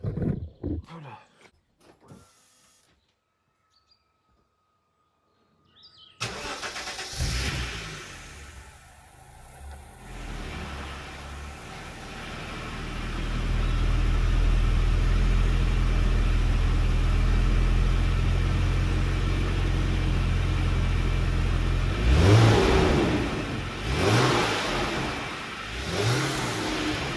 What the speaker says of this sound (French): je vais vous faire un joli petit démarrage à froid